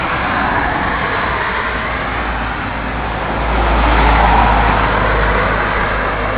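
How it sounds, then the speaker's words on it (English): Road traffic rolls along the main street of a small French town, a loud continuous roar of engines and tyres close by, swelling as a heavier vehicle passes midway. "like many small French towns and villages, there's a main street and all of the traffic goes up and down it,"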